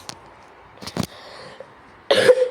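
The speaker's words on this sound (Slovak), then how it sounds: "A keď budem to trošku kašľať, je mi to ľúto" A man who has a cold coughs a few short, separate times in a quiet room, each cough brief and fairly close, and a louder rough burst comes at the end.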